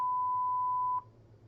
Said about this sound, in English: This is a 1000 hertz sine wave.